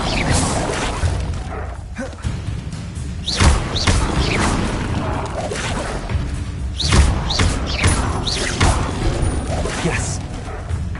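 Incendio fire spell cast repeatedly in a Hogwarts video game, heard as a series of loud whooshing bursts and heavy thuds over a continuous rumbling game soundscape.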